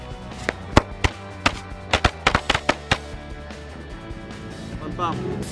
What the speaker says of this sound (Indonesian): ini yang pertama mercon korek Pretek Mini.